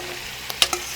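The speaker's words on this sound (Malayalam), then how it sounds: "അപ്പം എണ്ണയിലേക്ക് നമ്മൾ നേരെ ഈ കക്കയാണ് ഇടുന്നത് കേട്ടോ." Clams dropped into hot oil sizzle steadily, broken by three sharp pops close together near the end.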